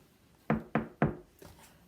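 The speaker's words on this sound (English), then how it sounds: "In the morning, there was a knock on the door." Three sharp, evenly spaced knocks on a wooden door sound close and clear, followed by a fainter fourth tap, with no talking over them.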